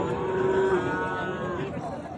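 A young desi heifer lets out a long, drawn-out moo close by at the Panchbibi cattle market in Bangladesh, over a low murmur of background noise.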